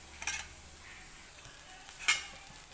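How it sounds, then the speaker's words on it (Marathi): Onion and green chilli frying in oil over low gas with a cumin tempering: soft sizzling under two sharp scrapes of a spoon stirring the pan, quiet and close, no talking. "तेल ओतून जिरेची फोडणी दिली आणि कांदा मिरची टाकून आता चांगली कमी गॅसवर अशी भाजत"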